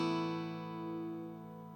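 A sus2 chord strummed once on guitar, a steady ringing chord close up that sustains and slowly fades, heard alone.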